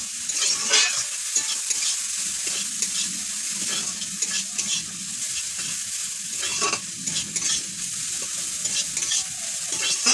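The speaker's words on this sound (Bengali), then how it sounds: "সেই জন্য একটু হলুদটা নেড়ে নিচ্ছি" Turmeric is stirred into hot oil in a pan. A utensil scrapes and clinks against the metal in irregular strokes over a continuous close sizzle.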